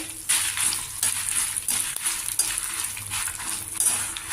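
Mustard seeds and red chillies frying in a pan give a steady hiss with sharp crackles and pops, while a spoon clinks and scrapes against the metal now and then, and no one speaks.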